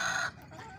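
Misri hens in a small backyard setup give a brief, faint cluck that fades quickly into quiet.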